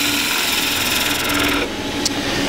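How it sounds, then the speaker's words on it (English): A skew chisel cutting wood on a spinning lathe, a loud continuous rasping hiss of the blade shaving the turning wood, shifting slightly in tone partway through. "you raise the handle until there's a bit of dust coming off the edge, then you move the tool forward"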